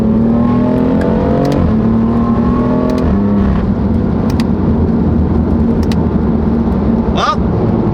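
A BMW M4 with its front bumper off drives along a dirt road, the engine droning steadily and loud from inside the car with gear-change dips and tire rumble, and faint voices mixed in.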